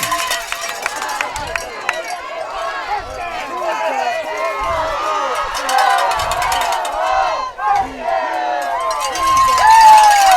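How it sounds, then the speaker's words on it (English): Football fans in the stands at a high school game between Ozona and Brady cheer loudly and continuously after a first down late in the fourth quarter, swelling toward the end, with a commentator talking over them. "our fans are cheering for that first down"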